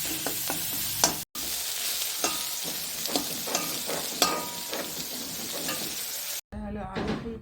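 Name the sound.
frying meat in pan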